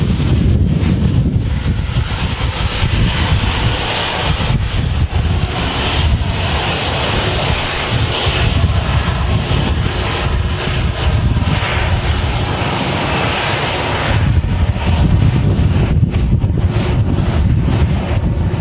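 A Boeing 737-8200 takes off from Manchester Airport with an early rotation, its engines giving a loud, continuous roar that swells and fades, overlaid by gusty wind noise on the microphone.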